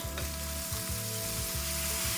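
Vegetables hitting a hot pan, crackling into a loud continuous sizzle, with a low rhythmic hum running beneath, close and without voices.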